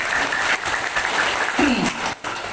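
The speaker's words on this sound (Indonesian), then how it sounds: "Sekali lagi dong tepuk tangannya ya" Audience applause at a village ceremony in Karawang, dense steady clapping from a crowd of women that swells and holds for a couple of seconds, with a brief voice rising out of it near the end.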